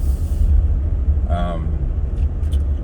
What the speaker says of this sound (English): That was a county truck.